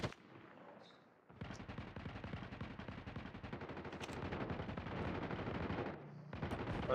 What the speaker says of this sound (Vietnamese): có tiếng súng nổ.